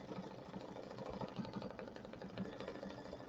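An embroidery machine stitching rusty leaf applique, a steady rapid mechanical chatter and whirring hum, faint and continuous with no talk.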